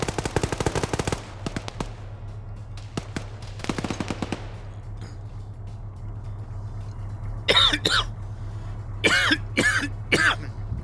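Coughing fits after a drink goes down the wrong way, a first burst of rapid harsh hacks, a few more coughs midway, then several loud separate coughs near the end over a steady low hum.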